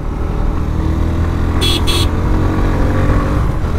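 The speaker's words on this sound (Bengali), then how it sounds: "কি ব্যাপার, থ্রোটল ছাড়ে দিল কেন বাইকের?" A Suzuki Gixxer motorcycle on an open road as the rider lets off the throttle: a loud, steady engine and wind drone runs throughout, broken by a brief high hiss midway.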